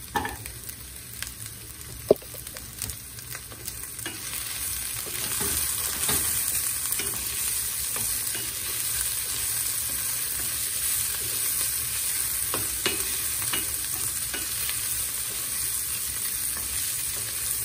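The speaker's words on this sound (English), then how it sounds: "So I'm gonna just add a half stick of butter." Half a stick of butter sizzling with cooking onions in a pan, a steady close frying hiss throughout, with a few scattered clinks and stirring knocks and no voices.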